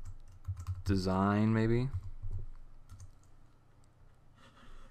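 Computer keyboard typing during After Effects motion graphics work, quick close key clicks around a short burst of speech, then a few softer taps.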